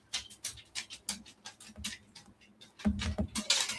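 A dog's paws tapping on a hard indoor floor, a quick run of light irregular clicks close by, with some panting.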